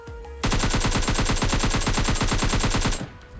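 Rapid automatic gunfire in the mobile shooter PUBG Mobile Lite: one loud, unbroken burst of evenly spaced shots lasting about two and a half seconds, then a quick cut-off, with no voices.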